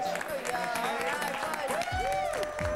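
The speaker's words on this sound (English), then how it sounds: "You hear them clapping for you?" An audience claps and cheers in a steady, lively wash of crowd noise, while voices talk and exclaim loudly over it.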